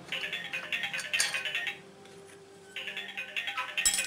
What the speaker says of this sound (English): And my phones are ringing.